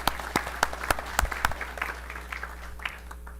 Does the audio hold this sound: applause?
yes